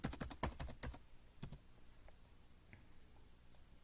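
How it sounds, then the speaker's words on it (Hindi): Rapid keystrokes on a computer keyboard as a password is typed, a quick cluster of clicks up front, then a few sparse, quieter taps after a pause, with no talking. "पासवर्ड मैं दोबारा टाइप कर देता हूँ।"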